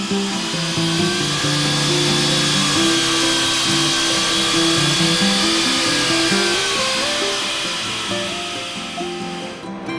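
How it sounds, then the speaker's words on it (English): A power saw cuts steadily through wall base faced with wood veneer, a loud continuous whine with shifting pitch that holds for the full stretch, easing slightly near the end. "Once the saw starts, make sure the blade is going full."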